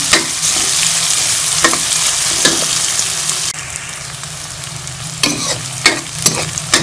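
Onions sizzle steadily in a hot pan with oil, broken by repeated scraping stirs of a spoon against the metal, close and fairly loud throughout.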